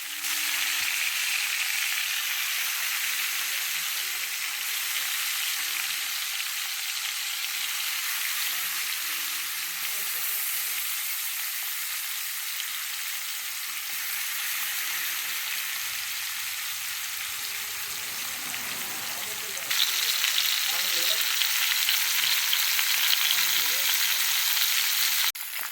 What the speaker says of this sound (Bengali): তো এই যে আস্তে আস্তে কড়াইয়ের মধ্যে দিয়ে আমি সব মাছগুলো ভেজে নিই।